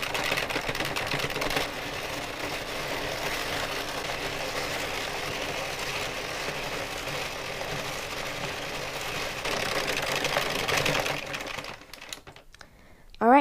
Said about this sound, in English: knit 60 more rows with my new yarn